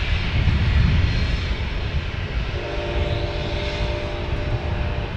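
An Embraer Phenom business jet operated by FlexJet takes off, a strong engine roar with heavy low rumble and a rising high whine as it climbs away.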